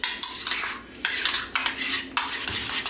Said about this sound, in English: I will pull out a whisk, I think, and mix this really thoroughly